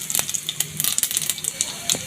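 Panch phoron and radhuni spices temper in hot oil with a close, continuous crackling sizzle and scattered sharp pops, and there is no talk.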